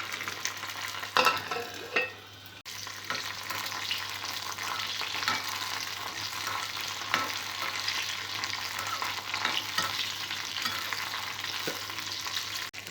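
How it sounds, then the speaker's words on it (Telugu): Green chillies frying in a covered pan for a chilli pachadi, a dense continuous sizzle and crackle with some scraping and clattering near the start, then steady frying throughout. "పచ్చిమిరపకాయలు వేసిన తర్వాత మూత పెట్టి బాగా ఫ్రై చేసుకోవాలి."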